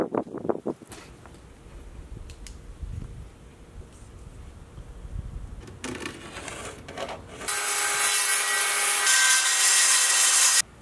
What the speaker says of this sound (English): I'm going to cut the floor out of this piece of plywood here.